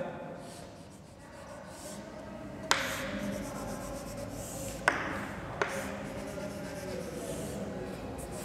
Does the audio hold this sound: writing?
yes